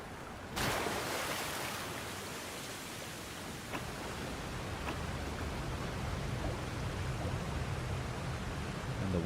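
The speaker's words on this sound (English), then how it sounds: "And the water gets higher." Rushing water and surf swell steadily around a rising tide in Genshin Impact's summer paradise area, a broad continuous wash with a few faint chimes and splashes, no voices.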